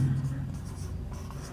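Chalk or marker writing on a classroom board during an electronics theory lesson, a steady scratchy stroking heard under a lecturer's voice.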